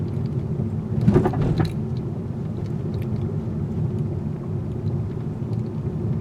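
A second mild speed bump taken at around 20 mph in a 2020 Hyundai Sonata: a brief dull thud and knock early on, then a continuous low interior road rumble with no voices.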